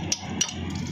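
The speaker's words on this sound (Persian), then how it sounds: "میذاریم اینجا با چکش ضربه" A hammer strikes a chisel set against the water seal of a Pride cylinder block, giving two sharp metallic taps about a third of a second apart, close and fairly loud.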